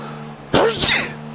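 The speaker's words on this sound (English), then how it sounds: "I'm gonna sneeze again in a second." A single sharp human sneeze bursts out close and loud from a quiet background with a faint steady hum, followed by a short second gasp or sneeze tail.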